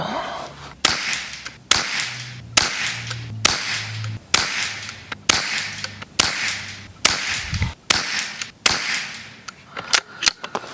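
A ten-shot string of .22 Long Rifle match ammunition fired from a Savage MK II rifle outdoors, with sharp, loud cracks spaced about a second apart, each trailing a brief echo, and no talking between them.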